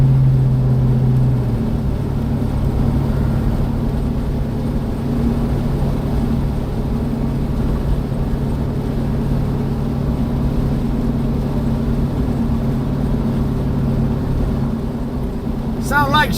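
A Chevrolet hot rod's engine runs rough and steady, a loud, low droning rumble close by that carries on without a break.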